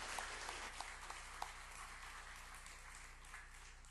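Congregation applauding during a church ordination service at Seongji Church, a soft, distant wash of clapping that stays steady and fairly faint throughout, with no voices over it.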